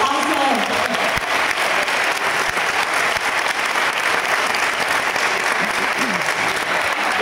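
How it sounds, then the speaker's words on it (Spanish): Audience applause for a choir at a Romería San José festival event in Terrassa, a loud continuous crowd clapping that fills the whole stretch with faint voices mixed in. "¡Un aplauso! ¡Un aplauso!"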